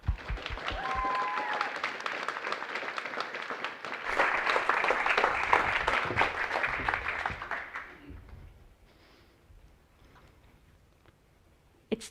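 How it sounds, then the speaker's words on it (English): A TEDx audience claps to welcome a speaker: dense applause swells, grows louder midway, then fades to scattered claps and quiet room tone. "You can clap now."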